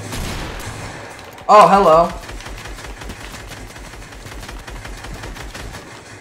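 Rapid, machine-gun-like gunfire from video game guns rattles in close, continuous bursts throughout, with a short spoken greeting riding over it.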